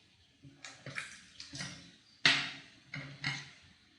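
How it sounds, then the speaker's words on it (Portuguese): Water poured in several short splashing bursts into a small container holding a salt mixture, each pour loud and close with brief pauses between, no voices. "Vamos colocar um pouquinho mais de água aqui."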